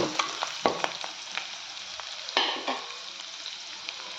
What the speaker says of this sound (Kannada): ಒಂದು ಸ್ವಲ್ಪ ಎಣ್ಣೆಯಲ್ಲಿ ಫ್ರೈ ಆಗಲು ಬಿಡಿ